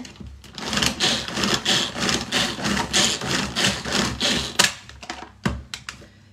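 A Tornado hand-pulled food chopper chops food for rillettes with a fast, rhythmic series of close whirring, rasping pulls that end in a few separate knocks and clicks, with no talking.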